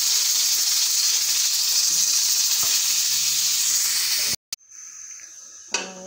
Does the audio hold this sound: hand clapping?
no